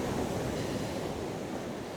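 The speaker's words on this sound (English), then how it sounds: "Should have put my sand feet on, because the tide is now coming in." Waves of an incoming tide roll steadily onto a beach, forming a broad, continuous wash of surf with some wind rumble and no voices.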